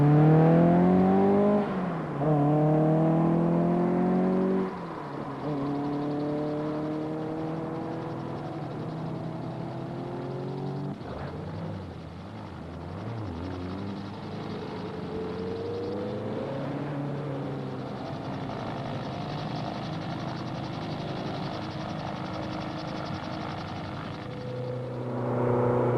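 Toyota rally car from the 1973 Daily Mirror RAC Rally pulling away onto a motorway, the engine revving up through several rising gear pulls, loud at first then easing into a steadier drone as it moves off.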